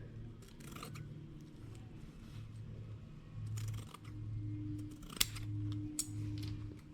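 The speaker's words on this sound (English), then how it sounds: "I'm guessing I can cut it right about there. So we'll cut that here." Scissors snip through material for a handmade shell angel's skirt, several short crisp cuts spaced irregularly over a low steady background hum, close and fairly quiet.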